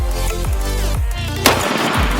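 A powerful pistol firing, with one sharp, loud report cracking out clearly over a background of other layered, rhythmic sound.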